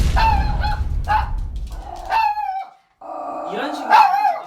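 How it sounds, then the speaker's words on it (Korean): A pet dog barks indoors at home when a person rises from the sofa during a training session. Several sharp, close barks come in bursts with brief pauses, and people talk nearby. "짖을 것 같아요"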